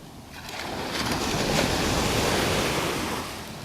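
Ocean surf rolls onto a beach in North Naples, Florida, one wave swelling and washing in close by with a broad rushing roar, mixed with wind buffeting the microphone, and no talking.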